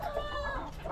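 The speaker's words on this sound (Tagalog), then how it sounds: "dinere-diretso ko na yung pag-aalaga sa aking mga manok na ganito" Brief snatch of backyard chickens clucking softly nearby, a single short steady stretch of fowl calls without any talking.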